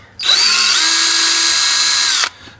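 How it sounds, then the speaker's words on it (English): A power drill whirs steadily at high speed for about two seconds, loud and close, starting and stopping abruptly with no talk. "So I'm going to drill here, and I'm just going to drill"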